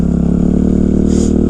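A Kawasaki KX 250F dirt bike on its stock exhaust, the engine held at a loud, steady high rev, close up with a raspy buzzing tone throughout.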